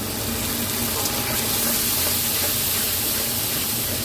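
Ginger-garlic paste drops into ghee with chopped onions already frying, giving a steady, dense sizzling hiss that holds evenly from start to finish, close and fairly loud.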